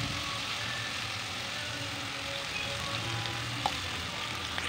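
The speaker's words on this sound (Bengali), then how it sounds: "আদা রসুন তেজপাতা দিয়ে আমি ভালো করে কষিয়ে নিচ্ছি" Chopped onion, ginger, garlic and bay leaf frying in mustard oil for egg biryani masala, a steady close sizzle with a faint low hum underneath and a single brief clink near the end.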